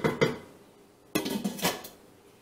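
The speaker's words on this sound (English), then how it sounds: "then go ahead and put the cover on it" A lid set onto a crock pot holding homemade sloppy joe mixture: two quick light clinks, then a louder ringing clatter with a couple of settling rattles, close and without talk.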